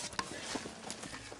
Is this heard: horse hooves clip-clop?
yes